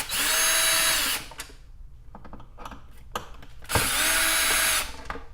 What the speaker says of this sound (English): I have my drill set on 1